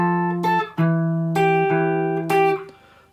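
Electric guitar plays bar 4 of a riff, a short phrase of clear sustained plucked notes with a few sharp new attacks, close and alone without talk.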